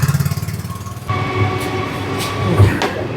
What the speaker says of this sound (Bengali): ট্রেন যাচ্ছে, ট্রেন ক্রস করলেই